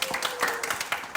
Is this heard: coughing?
no